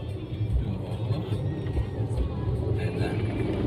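A big car driving: a steady, low engine rumble and road noise heard from inside or close by, continuous and fairly loud, with people talking over it.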